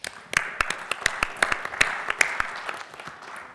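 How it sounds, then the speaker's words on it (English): Audience applause greets the moderator of a spectrum-planning panel, scattered individual claps standing out over a steady wash of clapping that stays moderately loud and tapers slightly toward the end. "Let's give a big round of applause to Paul Anuszkiewicz."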